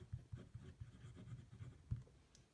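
Visconti Michelangelo fountain pen with a fine nib and Iroshizuku Konpeki ink writing on paper, giving faint, close scratchy strokes in an irregular rhythm, very quiet, with no talking.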